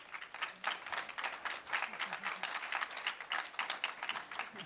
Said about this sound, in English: applause for all the panel